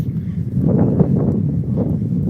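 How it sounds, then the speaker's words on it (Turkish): Wind blows steadily across the microphone on a sea pier, with a low buffeting rumble, and no voices are heard. "denizin içine biraz daha ilerleyince şu anda rüzgar esiyor biraz"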